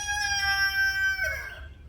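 A rooster crows once, a single drawn-out, strained call that holds steady then drops at the end, at moderate distance with no talk over it.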